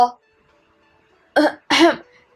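A short throat clearing, two quick close bursts after a brief sound at the start, with silence between.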